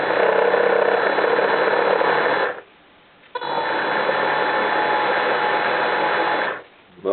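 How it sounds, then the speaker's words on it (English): Electric servo motors drive the diving and steering rudders of a Walter V80 model submarine, a steady mechanical whir running for over two seconds, stopping briefly, then resuming for another stretch before cutting out again. "I can move the diving rudder, steering rudder."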